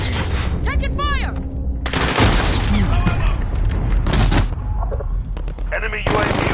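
Heavy gunfire and booming blasts in the shooter Call of Duty: Modern Warfare, loud continuous bursts layered with explosions and game effects, with voices shouting over the battle.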